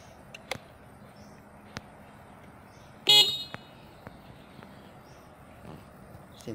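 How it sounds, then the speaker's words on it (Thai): A single short motorcycle horn beep sounds midway, loud and close, against a quiet background with a few faint clicks; a Honda Wave 110 motorcycle. "เสียงแตรดังมากครับ"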